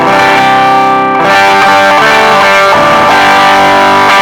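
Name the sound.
electric guitar through Zoom G1X Four distortion effect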